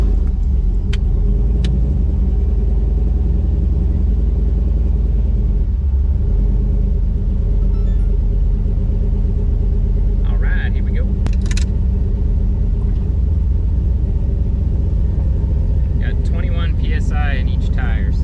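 A 1991 Turbo LS truck on marketplace drag radial tires drives along with a loud, steady engine and road rumble throughout, and people talk over it partway through.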